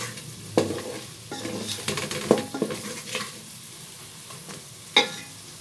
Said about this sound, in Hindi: अब हम इसे अच्छे से मिक्स करेंगे और इसे मज़ीद 1 मिनट तक पकाएंगे।